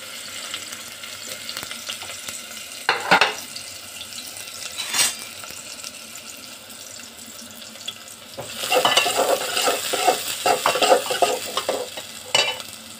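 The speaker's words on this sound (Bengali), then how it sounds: "তেল গরম হয়ে গেছে, এবার দিয়ে দেবো পেঁয়াজটা। আমি বাদামি কালার করে ভেজে নেব।" Onions dropped into hot oil for frying, a steady sizzle with stirring clatter and bursts of louder spattering partway through, close and alone with no voices.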